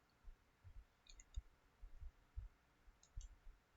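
Faint mouse clicks on a desktop computer in ArcGIS mapping software, several light paired ticks spaced irregularly in a quiet room.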